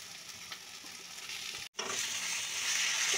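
Mashed potato tipped into a frying pan with tomato ketchup, a soft steady sizzle that cuts out for an instant and returns slightly louder, continuing close and even.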